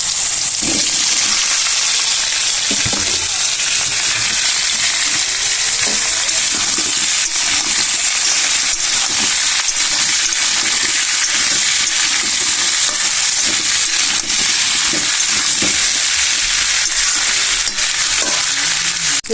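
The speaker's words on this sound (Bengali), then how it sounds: "ঝোলে মানকচু আর আলুটা ভালো করে ভাজা হয়ে গেছে" Loud, dense hissing sizzle of taro and potato frying in a pan, steady throughout with faint scraping now and then.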